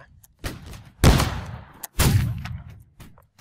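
Musket volleys from Holdfast: Nations at War, with two loud booming discharges a moment apart, each a dense crack that rolls off into a rumbling tail, plus a smaller pop between them.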